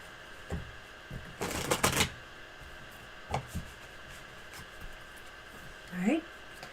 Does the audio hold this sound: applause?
no